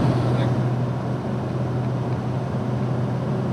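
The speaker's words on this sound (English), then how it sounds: "I think still hear the engine humming, getting us up these hills." A steady low car engine drone fills the clip, constant and close, climbing hills at elevation at an even pace with no breaks.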